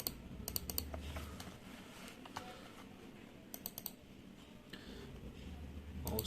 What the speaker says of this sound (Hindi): अब हम लोग देख लेते हैं कीबोर्ड को चला के।